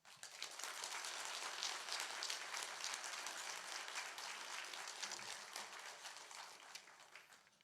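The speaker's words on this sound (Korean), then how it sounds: "우리 목사님 나오실 때 우리 큰 박수로 맞이하도록 하겠습니다." A church congregation applauds a guest pastor at a New Year revival service, steady hall-filling clapping that holds for several seconds before tapering slightly.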